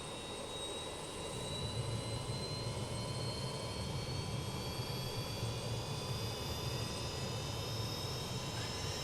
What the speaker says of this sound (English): Engine start sounds are pretty good.